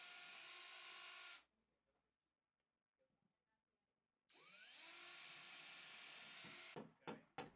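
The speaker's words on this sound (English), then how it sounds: "Drill the holes using the 1/4-inch drill bit." An electric drill with a 1/4-inch bit drills holes in a wall, whirring at high speed in two bursts with a quiet gap between, then ending with a few short revving pulses.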